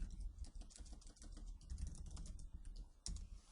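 Rapid, uneven clatter of fingers typing on a computer keyboard, with a quick burst of keystrokes followed by brief pauses, close and fairly quiet with no talking.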